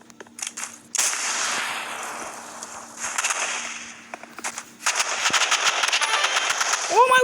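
Rapid bursts of gunfire from a Roblox Rivals shooter match crackle in close, sharp volleys, with a steadier stretch of shooting building toward the end and some game noise between.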